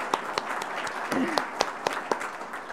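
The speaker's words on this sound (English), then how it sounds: "I'd love to give her a round of applause" Scattered applause from a crowd at a Rotary club meeting, with a few sharp claps standing out over a steady murmur of voices and room noise.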